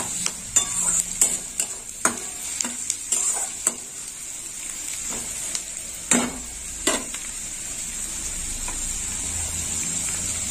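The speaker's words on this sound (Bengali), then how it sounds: "পেঁয়াজগুলো ভাজা হোক।" Onions fry in a pan of oil with a continuous bright sizzle, punctuated early on by sharp stirring knocks and scrapes before settling into an even hiss.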